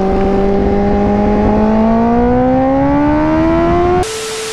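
A Kawasaki Ninja H2 motorcycle engine holds a loud, rising rev for about four seconds, its tone climbing steadily before it cuts off abruptly.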